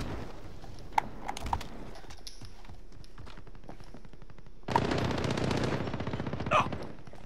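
Video game gunfire: short bursts and single shots ring out early, then a dense, louder volley of rapid automatic fire erupts near the end, with keyboard clatter underneath.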